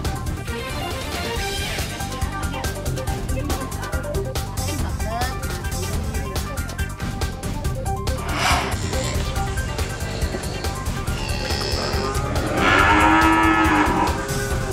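Cattle raised by farmers who feed them cassava pulp in place of grass moo, with a low, drawn-out call standing out near the end over a steady bed of background music and noise.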